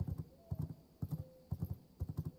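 Horse hooves clip-clop in the vampire survival game V Rising, a steady galloping rhythm of repeated hoof groups, moderately close and clear, with no talk over them.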